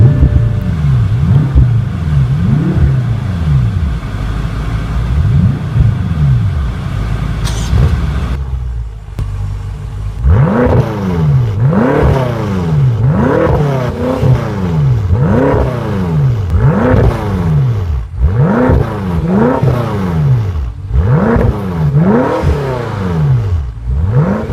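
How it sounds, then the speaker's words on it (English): A 2014 BMW M5 F10 with a twin-turbocharged engine: a starter-button crank and then the engine catching. Repeated sharp revs rise and fall in a steady rhythm, loud and close, with no talking. "Alright, let's start it up and see how it sounds."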